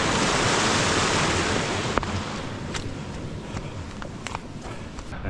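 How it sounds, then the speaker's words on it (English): Steady broadband wash of spray as a triathlon TT bike rides through water on a fully flooded road, continuous and close, with a few sharp splashes and clicks near the end. "The road is fully flooded."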